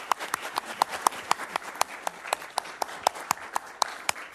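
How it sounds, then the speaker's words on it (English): Sparse, distinct handclaps ring out at a city council meeting, a small group clapping in a steady patter that stays fairly quiet throughout. "So let's give them applause."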